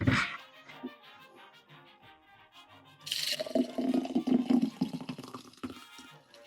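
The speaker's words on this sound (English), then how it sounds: "Go ahead and pour it into our glass." Daiquiri poured into a chilled coupe glass, a brief close liquid splash and trickle that starts abruptly midway and runs to the end amid faint background sounds.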